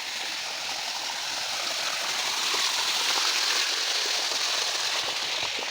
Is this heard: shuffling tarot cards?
no